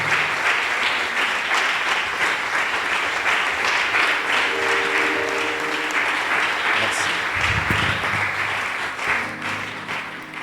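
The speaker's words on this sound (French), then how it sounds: "sous vos acclamations" Audience applause at a church conference, sustained and dense clapping from a large crowd filling the whole stretch, with a brief low thump and some voices near the end.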